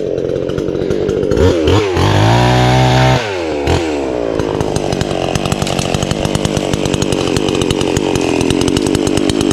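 A chainsaw cuts dead cashew trees, first revving and idling unevenly, then settling into a loud, sustained cutting whine with a rapid chattering texture, close by and with no voices.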